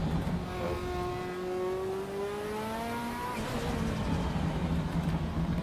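A Ferrari in Assetto Corsa EVO accelerating hard, its engine note climbing steadily in pitch through the revs, then dropping after a gear change and building again. The engine is loud and close, with a faint voice beneath it.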